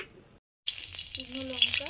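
Banana flower frying in mustard oil in a pan, with a steady bright sizzle that starts after a short silent gap and stays up close, with a voice speaking briefly over it.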